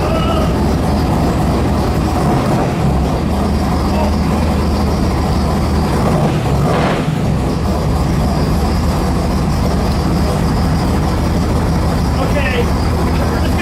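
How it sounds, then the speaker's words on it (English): An original DZ302 engine in a Z28 with 45,000 original miles runs with a loud, steady, rumbling drone that fills the whole stretch, while people talk over it. "I'll even let you start it if you want."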